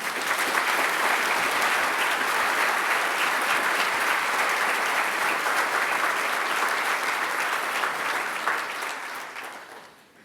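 Sustained, dense applause from a large audience at a university graduation ceremony, steady for several seconds before tapering off at the end.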